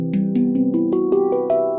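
A Neotone digital handpan plays a quick run of legato strokes, about eight soft, ringing metallic tones that overlap and climb steadily in pitch, close and clear.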